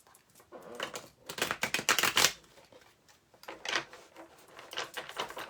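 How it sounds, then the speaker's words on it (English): Cards being shuffled close up, rapid riffling bursts with short pauses between them, no talking. "Let me shuffle."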